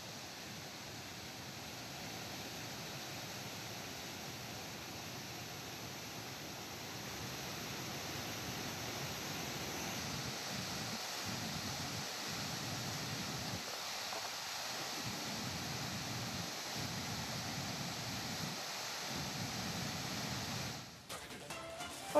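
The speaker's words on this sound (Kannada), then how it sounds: "ಈ ರೀತಿಯಾಗಿ ಜಲಪಾತ ಭೋರ್ಗರಿತಾ ಇದೆ" Mookanamane waterfall near Sakleshpur, swollen after heavy rain, gives a steady, loud broadband roar that fills the whole stretch without break, with no voices over it.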